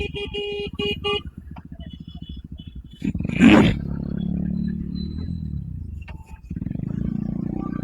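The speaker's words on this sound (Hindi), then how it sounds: "हॉर्न क्यों मार रहे हैं इतना।" Car horns honk in morning traffic, with short blaring blasts at the start over a rumbling engine idle, then a louder engine roar and further vehicle noise close by.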